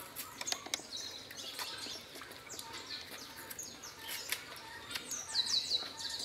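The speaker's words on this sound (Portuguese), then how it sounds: "Olha os passarinhos fazendo a serenata." Small birds chirping and singing outdoors at a rural farm, faint scattered tweets and short calls at a distance, quiet and intermittent without talk.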